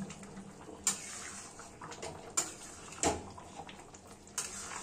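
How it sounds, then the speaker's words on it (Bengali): Meat gravy for Jamaican brown stew chicken, with tomato ketchup and red chili sauce, simmers in a pot, giving a steady soft bubbling hiss with a few sharper pops and clicks scattered through it. "মাংসের ঝোলটা ভালোভাবে ফুটতে থাকুক"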